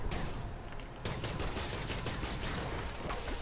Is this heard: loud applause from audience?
no